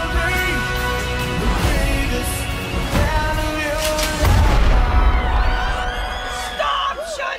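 Bursts of gunfire and booms from a shotgun wedding comedy trailer, mixed under a loud musical score with shouting voices throughout.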